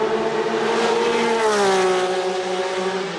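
A BMW M1 ProCar race car on track, its engine howling loud and close in a sustained high-revving note that sweeps down in pitch as it passes or lifts off.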